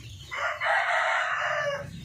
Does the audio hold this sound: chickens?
yes